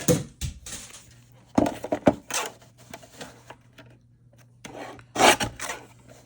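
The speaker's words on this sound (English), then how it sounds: "I'll just trim off those little edges" Edges of an A2 card panel being trimmed, heard as close, short rasping scrapes and rubs in uneven bursts with quiet pauses between.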